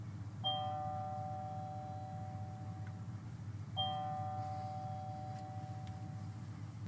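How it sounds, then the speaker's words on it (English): A Redline 360c radar detector sounds its mild alert tone, a doorbell-like two-note chime heard twice, a few seconds apart, each ringing out and fading over steady low road noise. "The mild ones sound kind of like maybe a doorbell."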